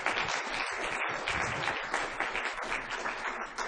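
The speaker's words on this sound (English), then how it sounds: "So please give a brief applause." An audience at an awards closing ceremony gives a short burst of dense, steady applause, many hands clapping together at close range with no speech over it.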